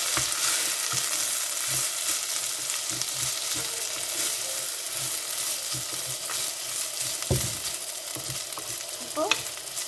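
Onions and lardons fry loudly in a pan, a dense continuous crackling sizzle close up, with occasional stirring knocks and a scrape near the end.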